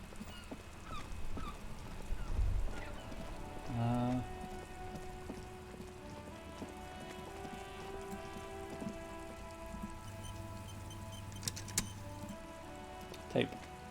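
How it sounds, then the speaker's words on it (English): Rain falls in the video game Disco Elysium, a quiet steady patter under a faint ambient bed, with a few brief louder tones and clicks. "I hear the rain."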